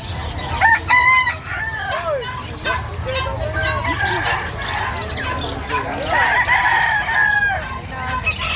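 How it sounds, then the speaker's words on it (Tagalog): Rooster crowing amid a busy Filipino market fair, with fowl clucking nearby and several people talking loudly over steady crowd noise. "Yung manok doon sa perya"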